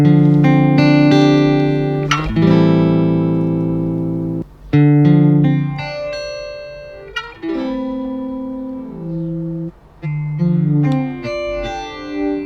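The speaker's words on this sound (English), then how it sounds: "You see this comp filter effect, yeah, very exaggerated." Granular timestretched sound processed through an exaggerated comb filter, giving a resonant, metallic, pitched tone with shifting harmonics. Notes swell and change in irregular blocks with brief sharp gaps between them.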